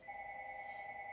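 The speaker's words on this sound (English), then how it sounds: "The phone is ringing, we'll ignore." A telephone rings nearby with a steady electronic tone that lasts the whole short moment, alone and with no talk over it.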